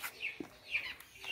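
Chickens cluck softly nearby, a few short clucks and chirpy calls spread over a moment, faint and alone without talk.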